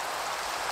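Steady rain from a shader-enhanced Minecraft world hisses as broadband wash, an even, continuous patter with no breaks and no voices.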